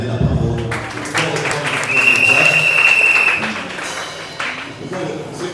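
A church congregation at an ordination service breaks into loud, sustained applause mixed with cheering voices and a brief whistling tone, then the clapping thins out toward the end.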